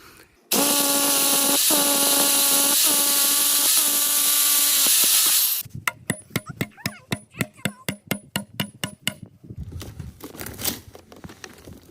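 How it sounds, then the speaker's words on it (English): A power drill bores into concrete for rebar, whining loudly and steadily for several seconds, then a rapid series of sharp, rhythmic hammering impacts follows close by. "I need to go into this concrete and I need to drill some rebar into it"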